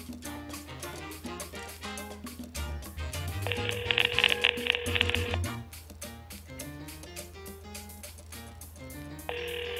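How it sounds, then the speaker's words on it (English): An outgoing call to a Best Buy store rings through a PC acting as a phone, with repeating electronic ring tones pulsing in bursts over a faint, steady rhythmic backdrop and no one answering. "So right now we're just calling Best Buy, and we're going to see if anyone actually answers so we can actually talk to someone."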